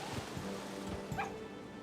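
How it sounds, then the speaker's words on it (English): A beagle puppy in the Harvest Moon Animal Parade video game gives a short yappy bark, a few quick yips over steady game background sound, with no talking. "It's an adorable beagle puppy."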